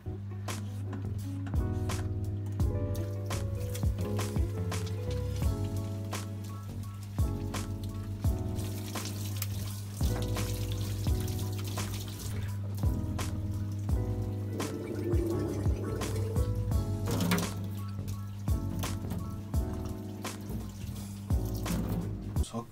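Water runs steadily from a tap while hands are washed, a close continuous splashing stream with wet rubbing and squishing sounds layered on top.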